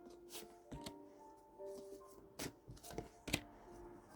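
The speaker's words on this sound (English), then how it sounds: "I just shuffle the cards and I just pull the first three that pop out." Soft riffling and slapping of cards being shuffled, several short bursts over a few seconds against a faint tonal hum.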